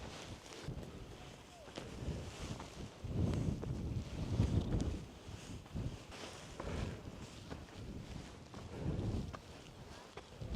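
Mountain wind on Mount Sindoro at about 2,884 metres buffets the microphone in low, rumbling gusts that rise and fall while climbers talk nearby.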